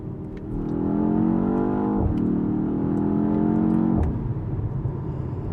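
A BMW X1 M35i in sport mode drones steadily and loudly as it moves through the gears, its engine pitch dipping sharply at two shift points, without talk.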